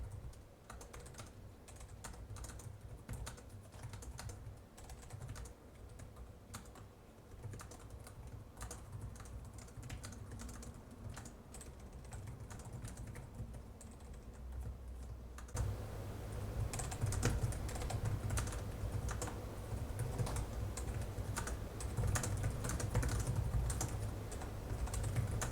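Typing on an ASUS TUF Gaming A16 laptop keyboard, a fast, quiet patter of close key clicks running continuously and growing louder and denser in the second half.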